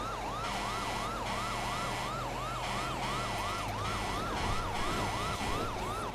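A wailing ambulance siren in a video game cycles steadily up and down, loud and close, over a constant engine rumble and background game noise.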